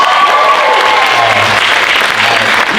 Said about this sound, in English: can we get another round of applause for those dance?